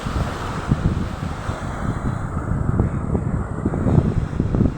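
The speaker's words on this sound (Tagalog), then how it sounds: "Amazing waves." Ocean waves break against a resort shore in a continuous low rumble with repeated surging crashes, mixed with strong wind buffeting the microphone and no voices.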